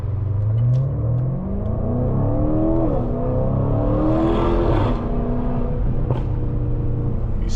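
A Stage 2 tuned BMW G30 M550i, boosted to over 700 hp, accelerates hard from inside the car, its engine tone sweeping upward through quick successive gear shifts, loud and close, with a burst of rushing air as it pulls.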